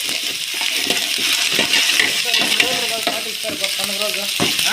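Curry leaves fry in a pan with loud, steady sizzling and crackling, close up, while being stirred, with occasional clanks of the utensil.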